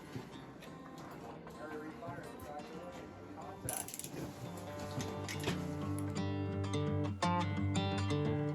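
Torque wrench tightening bolts on a 5.3 LS engine during a rebuild, a close burst of mechanical ratcheting clicks and clunks that grows denser toward the end.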